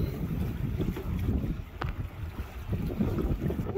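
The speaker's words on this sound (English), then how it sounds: "The conditions are terrible. It's really windy." Strong wind at the Port of Brisbane buffets steadily, roaring and rumbling in low gusts with no break, near and loud, with a faint watery wash beneath.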